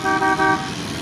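A car horn honks on a snowy off-road track, two loud close blasts in quick succession, then engine rumble.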